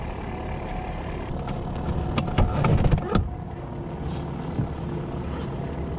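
Steady low engine rumble fills the cabin of a sports car on the move, with a brief louder surge of rattles and bumps midway before settling back to an even drone; no voices.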